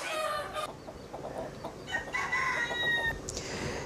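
An American Silky chicken clucks and crows close by in a farm or pen setting, a run of short clucks followed by a drawn-out crow, with no talk over it.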